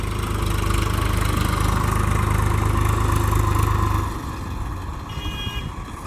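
Tractor engine running close by, a steady loud low throb that drops to a quieter idle partway through.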